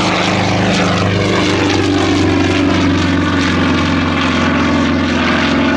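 A Super Pitts Model 12 aerobatic propeller plane flies at an air show, its radial engine giving a loud, continuous roar with a steady propeller drone throughout and no voices.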